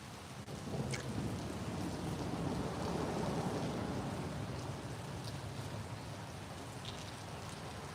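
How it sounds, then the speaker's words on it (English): Rain pattering onto lake water while fishing in Ontario, a steady dense hiss of drops that fills the whole stretch evenly, close and moderately loud, with no voices and only faint occasional higher drips. "The rain hitting the water?"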